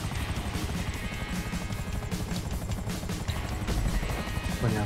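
A helicopter in the video game GTA V Online gives a loud, steady rotor whir with a fast pulsing beat that runs continuously throughout.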